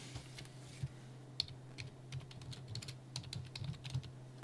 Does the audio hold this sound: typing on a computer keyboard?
yes